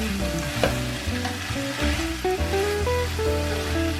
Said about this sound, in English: Now add the beef into the pan. Stir fry everything for a short while.